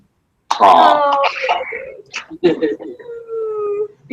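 A puppy howls and whimpers in a wavering, tonal wail that starts abruptly, breaks off, then returns as a long sustained whine, close and loud, with people talking around it.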